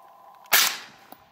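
A single sharp, loud gunshot at an outdoor shooting range, close by and cracking suddenly before a short decaying tail, with a faint click shortly after.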